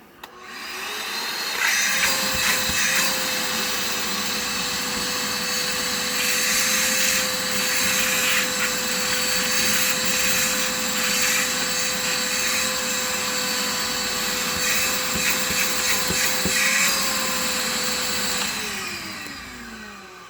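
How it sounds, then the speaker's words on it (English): A full-size wet dry vac powered by a solar generator vacuums out a car: a loud, steady whine that spins up, holds for about fifteen seconds with some rattling suction noise, then winds down. "test it on a wet dry vac, full-size wet dry vac, to vacuum out the car"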